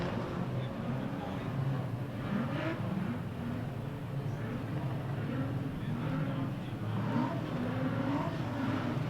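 Street stock race cars at Mildura Speedway rumble and rev in a steady, continuous engine roar while the pack waits behind the pace car before the start, heard from a distance with no break.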